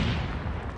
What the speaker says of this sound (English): Who's trying to shoot me?